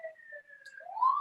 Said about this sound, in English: Sorry, sirens going by here.